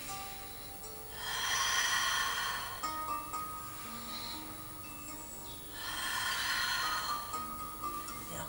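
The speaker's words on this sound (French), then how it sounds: "Inspirez et soufflez." Slow, steady breathing in and out during a Pilates exercise in lotus position, with two long, soft airy exhalations rising and fading over a low room hum, close and fairly quiet, no talking.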